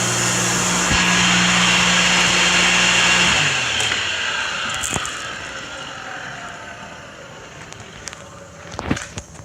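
A homemade shop fan roars loudly with a steady broadband whoosh and low hum, then winds down after being switched off, fading into quieter room noise with a few faint knocks near the end.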